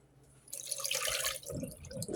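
Water drains and trickles off cooked bullhead fish into a sink, a close hissing splash that starts abruptly, runs about a second, then tapers into lower gurgling drips.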